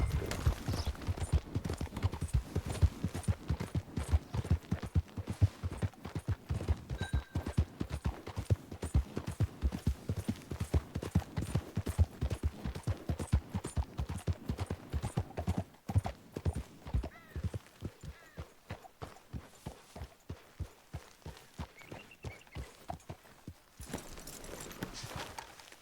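Horse hooves clip-clop steadily in Red Dead Redemption 2, a close, regular walking rhythm that runs throughout, slowing and thinning toward the end.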